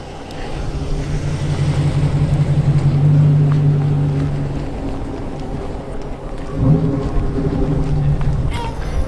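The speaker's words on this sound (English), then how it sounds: "Big old Dodge, well, it's not that old, but a Dodge Hemi just parking up there." A Dodge Challenger with a Hemi engine idles and rumbles at low pitch while parking, a steady loud drone near the microphone with a brief rise toward the end, and people talk over it.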